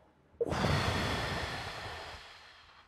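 A slow, deep breath drawn in sharply and then let out in a long, soft exhale that fades away, heard alone in a quiet room during a guided emotional exercise.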